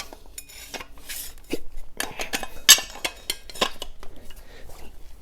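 Metal hand tools clink and clatter while wrenches are swapped during a gearing change on a flat track knock-off wheel, with a run of sharp close metallic taps and rattles.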